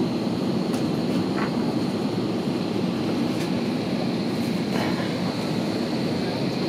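Steady JetBlue airplane cabin engine noise, a constant broadband roar and hum that fills the background without any break.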